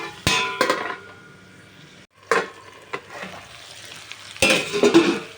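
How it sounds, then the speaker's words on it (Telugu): Tomatoes frying in a pan while being stirred, with a steady sizzle broken by several sharp scraping strokes of the spoon against the pan. "2 టమాటాలు వేసుకుంటున్నానండి. ఇప్పుడు ఇంకొంచెం మగ్గాలన్నమాట."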